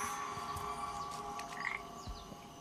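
Frog croaking in the video game Papo & Yo, a steady low call repeating over a busy layer of game ambience and music, fairly quiet and continuous with no talking.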